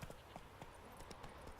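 Roach the horse trots along in The Witcher 3, with a steady clip-clop of hooves that is faint and regular under a soft ambient wash.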